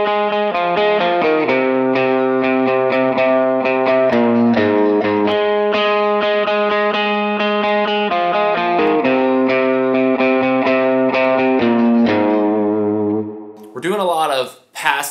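A distorted electric guitar plays a repeating riff of chugging notes, steady and loud, ending with a brief squeal of feedback-like noise.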